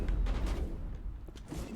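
Remote-detonated grenades blowing up in the Mass Effect video game, a short cluster of deep, rumbling booms with crackling gunfire-like bursts, loud and close, no talking.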